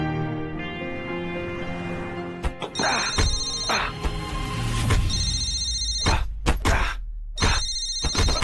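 A telephone rings in repeated bursts, its bright electronic trill cutting in and out over music and a few sharp hits.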